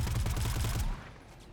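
A sentry gun in a video game firing a rapid, rhythmic automatic stream of shots, loud and close, that cuts off abruptly partway through and leaves a quieter tail.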